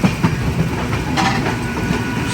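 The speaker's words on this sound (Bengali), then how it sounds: "ট্রেন ছেড়েছে আর বৃষ্টি শুরু হয়ে গেছে।" Puri Duronto Express moving off, its wheels beating a loud, continuous clickety-clack with heavy rumbling close by, no voices over it.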